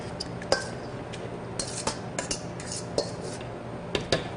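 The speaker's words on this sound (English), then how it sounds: "Now let's add those into our wet goods as well, and we'll mix that up." Wet ingredients for blueberry buttermilk bread are stirred in a bowl, with scattered utensil clinks and scrapes against the dish over a quiet kitchen background.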